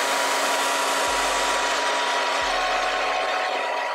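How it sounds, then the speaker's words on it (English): A blow dryer on a cool setting runs with a steady, loud whooshing whir over a straight wig's hairline, and two dull low thumps sound partway through. "I'm gonna take my blow dryer on a cool setting and make sure it's nice and laid"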